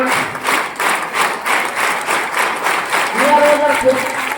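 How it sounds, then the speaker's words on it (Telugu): Schoolchildren at a residential school clap to welcome guests onto a stage, a loud crowd applause with a rhythmic pulse, a voice speaking briefly near the end. "పిల్లలందరూ ఒకసారి చప్పట్లు కొట్టాలి"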